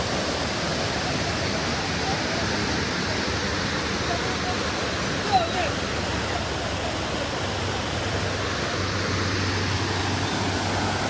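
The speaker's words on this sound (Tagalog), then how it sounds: "So ito na yung Dan Falls." Dunn's River Falls in Jamaica pours in a continuous, even rush of water, a steady wash of noise at moderate distance with no break or voice over it.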